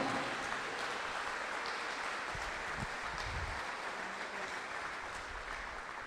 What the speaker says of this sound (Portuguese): Um aplauso ao Senhor Jesus, porque Ele merece.